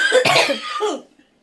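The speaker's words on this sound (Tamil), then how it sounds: "கிச்சனில் நிற்கிற வரைக்கும் வரும் இருமல்." A single harsh, raspy cough in a kitchen, close and loud, followed by a short wheezy breath before the sound drops away to silence.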